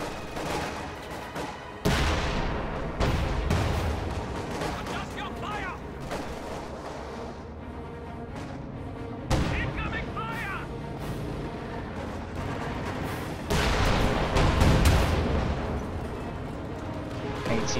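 Katyusha rocket artillery in a World War II real-time strategy game battle lets off a long run of booming launches and impacts, loud and continuous amid gunfire, with a game voice breaking in now and then.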